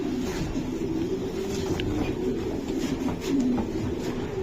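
Racing pigeons, choco racers, coo steadily in a pedigree loft, a dense low murmuring chorus that runs unbroken throughout without any voices.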